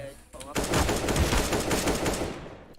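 Rapid automatic gunfire in the shooter game CS:GO, a loud sustained burst of closely spaced shots that tails off near the end.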